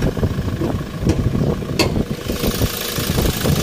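A 2017 Toyota Innova 2.8L E diesel automatic idles steadily nearby, a dense low rumble with a faint rise in revs partway through.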